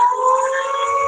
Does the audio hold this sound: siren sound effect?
yes